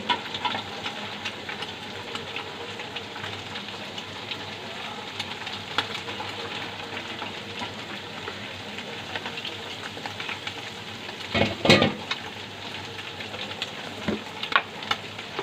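Carrots go into a pan of frying fried rice, giving a steady, moderate sizzle with a brief louder crackling burst from stirring near the end; no talking.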